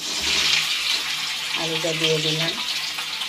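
Boiled, broken potatoes go into a wok of hot oil with cumin seeds, setting off a loud, close hiss of sizzling frying that runs steadily throughout, with someone speaking briefly over it.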